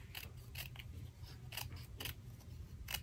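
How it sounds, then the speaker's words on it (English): Snips cut through paper to make a fringe: several short, crisp snipping strokes in an uneven rhythm, quiet and close with no talking. "So I'm just going to take my snips"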